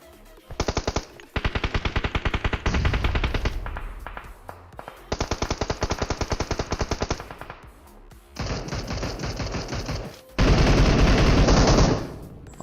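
Bursts of rapid automatic gunfire in the battle-royale game PUBG Mobile, several long loud volleys separated by short pauses, with the final burst sounding heavier and denser.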